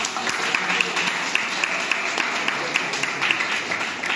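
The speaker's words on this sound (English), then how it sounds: "Can you give Pak Chong a big clap" A crowd applauds steadily at a book launch, a dense wash of clapping with a few sharper individual claps standing out, sustained throughout.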